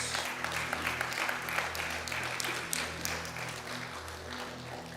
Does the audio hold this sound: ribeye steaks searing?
no